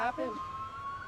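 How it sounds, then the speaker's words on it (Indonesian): An emergency siren wails across the capital city, Moscow, as a steady, sustained high tone after a brief voice at the start. "Sirene meraung di seluruh ibu kota."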